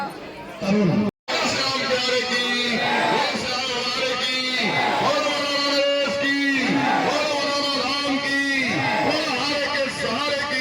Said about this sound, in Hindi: देखो दिख रही है, इतनी भीड़ हो रखी है।